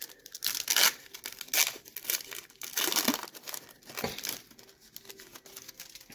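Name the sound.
crinkling wrapper of a 1990 Score hockey card pack being opened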